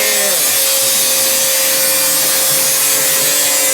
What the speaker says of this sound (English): There's the vacuum noise.